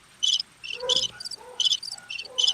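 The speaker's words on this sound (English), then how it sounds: "Okay, crickets. Go." Crickets chirp in short, bright bursts, a quick repeating pattern of trilled pulses heard close and clear, played as a sound effect with no talking over it.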